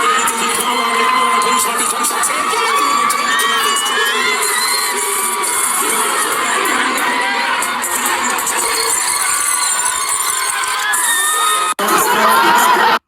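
A huge outdoor dancehall concert crowd of over 20,000 in Guyana cheers, screams and whoops continuously at a show, a dense roar of many voices.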